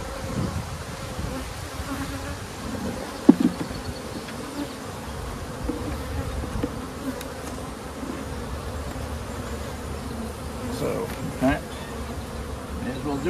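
Honeybees in an open hive during a Demaree swarm-control inspection give a steady, close, dense buzz throughout, with a couple of brief knocks from frames or equipment.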